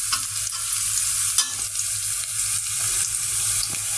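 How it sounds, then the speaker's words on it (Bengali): Onion, green chilli and garlic fry in hot oil, a loud, continuous close sizzle broken by scraping stirs of a spatula in the pan. "আর এখানে দিছি পেঁয়াজ, কাঁচামরিচ আর রসুন ভেজে নিচ্ছি তেলে।"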